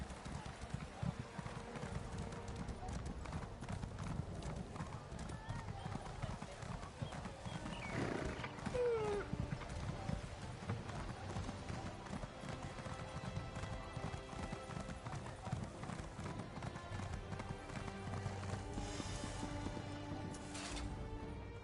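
A horse's hooves clip-clop in a steady, even rhythm as it is ridden in The Elder Scrolls Online, with a brief whinny near the middle, all under a faint background score.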